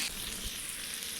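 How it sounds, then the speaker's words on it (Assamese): Onions frying in oil in a kadai, with meat for biryani: a close, steady hiss and crackle of sizzling with no voices. "পিঁয়াজখিনি ভাজি লৈছোঁ, একদম চিম্পুলভাৱে বনাম।"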